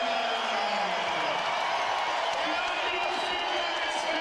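A basketball crowd at the Pepsi Center during a Boston Celtics at Denver Nuggets game sends up a continuous, dense roar of cheering and whooping, loud and sustained throughout, with commentary voices underneath.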